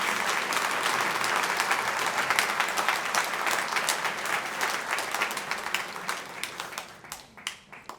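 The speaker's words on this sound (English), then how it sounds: "Can we give Tiffany, Mom, a big round of applause" Luncheon audience applauding steadily, a dense roomful of clapping that holds strong for about seven seconds before thinning into scattered claps at the end.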